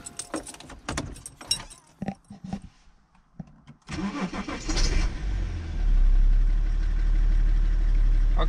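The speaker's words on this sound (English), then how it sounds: "I'm just gonna start up the car quickly and see if it runs well." Keys jingle and clatter, then the diesel engine of a BMW E90 325d with new glow plugs cranks with a squeaky starter, catches, and settles into a steady, close idle.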